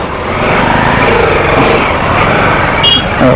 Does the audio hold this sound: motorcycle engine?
yes